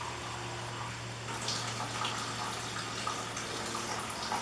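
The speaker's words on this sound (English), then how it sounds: "What's going in the bucket, we'll pour it back into the" Wort pours steadily back into the mash tun while homebrewing a Java porter, a constant faint gush of liquid splashing with a low hum underneath and no talking.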